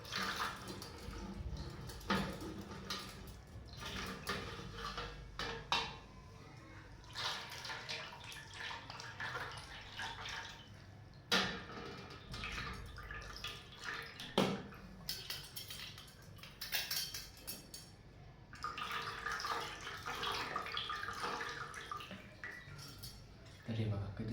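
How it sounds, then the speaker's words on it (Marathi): Water runs and splashes as silver masks and idols are rinsed with clean water, with occasional clinks of silverware and a person speaking intermittently. "स्वच्छ पाण्याने धुवून घ्यायचं"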